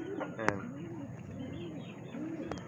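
Pigeons coo softly in a series of low, rolling calls close by, with a brief sharp click and faint background chatter.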